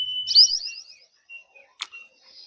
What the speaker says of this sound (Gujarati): સરસ મજાના પક્ષીઓનો અવાજ પણ સંભળાઈ રહ્યો છે.